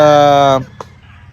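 A fighting rooster lets out a loud, close, sustained crow that cuts off sharply, followed by a brief faint knock and quiet.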